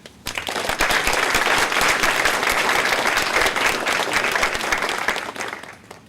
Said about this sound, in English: Well, let's give a round of applause for Ed.